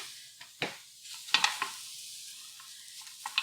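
Taco filling cooking in a pan, heard as a quiet low sizzle broken by a few sharp spatula scrapes and stirring clicks, with no one speaking.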